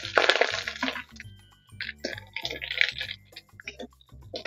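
Whole spices, dried chili, fennel, cumin seeds, cardamom, cloves and cinnamon, hit hot mustard oil, giving a loud initial crackle followed by irregular sharp pops, clicks and tiny cracks, close and crisp.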